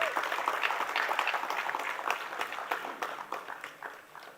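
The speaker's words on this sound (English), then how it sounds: "a big round of applause for the mothership, IIMB" Audience applause at an institute foundation day celebration, a dense burst of clapping from a large crowd that gradually thins and fades over a few seconds.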